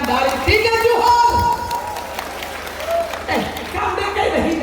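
Church Christmas gathering audience claps briefly amid lively talk and laughter, scattered applause mixed under voices.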